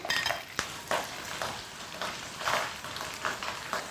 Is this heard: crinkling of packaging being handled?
no